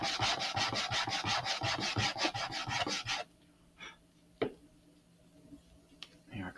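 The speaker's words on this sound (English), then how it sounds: "They are coming apart as I'm sanding them" Rapid rhythmic hand sanding on model rocket parts for an Estes Great Goblin build, a run of quick rasping strokes that stops abruptly, followed by a few scattered soft scrapes and clicks.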